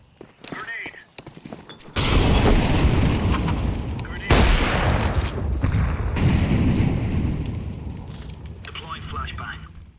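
A grenade explodes in a first-person shooter game, a sudden loud blast that then rumbles and roars for several seconds, with a second booming hit partway through. Faint game voice lines and ambience come before it.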